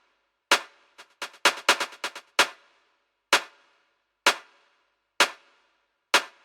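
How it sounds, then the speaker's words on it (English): Deep house claps made in FL Studio with automated Fruity Delay 2: sharp, dry hand-clap hits, a quick cluster of repeating hits early on, then single claps spaced evenly about a second apart, heard alone. "Then another thing I do with the claps is I automate some delay."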